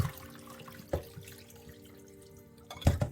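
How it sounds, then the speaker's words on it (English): Water splashes in short bursts as it is poured over fish being rinsed, with a brief gush near the start and a louder pour at the end, against a quiet hum. "I just pour the water."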